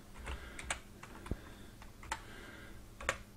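Sparse keystrokes on a computer keyboard entering a Google search, quiet and close, a few scattered clicks with gaps between them in a calm room.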